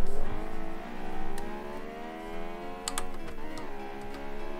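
A V12 hatchback engine in the video game BeamNG revs high with a harmonic whine whose pitch rises and falls in a few surges, close and loud, joined by scattered clicking taps like keys being pressed.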